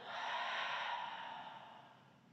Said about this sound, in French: on prend une grande inspiration par le nez. Et on expire.